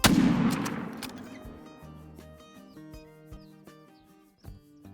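A 30-06 rifle fires in a hunting game, opening with one loud shot and a long decaying echo, then quieter layered tones and a few faint clicks follow.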